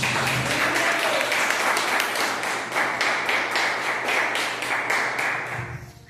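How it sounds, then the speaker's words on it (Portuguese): A church congregation applauds together in sustained, even clapping at a strong level, with a slightly rhythmic pulse before it fades toward the end. "E as palmas são para Jesus."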